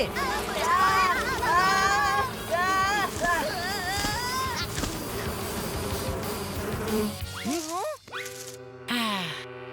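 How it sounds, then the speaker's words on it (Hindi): Cartoon bees buzz in an animated kids' show, a wavering high drone running under children's voices, ending with short comic sound effects. "बचो मधुमक्खियों से"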